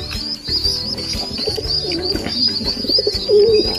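Long-distance racing pigeons coo repeatedly close by, with soft throaty calls and light chirps overlapping in a busy loft.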